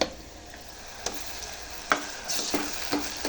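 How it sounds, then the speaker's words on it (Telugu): Ginger garlic paste fries in a pan with a soft steady sizzle, interrupted by a few sharp scrapes and taps of a spoon against the metal. "ఈ టైంలోనే మనం అల్లం వెల్లిపాయ పేస్ట్ వేసుకోవాలి"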